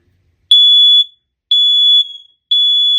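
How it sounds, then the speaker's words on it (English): Wired Kidde smoke detectors in test mode emit three loud, piercing high-pitched beeps at regular one-second intervals, each about half a second long, with no other sound. "Yep, all of them in the house are going off."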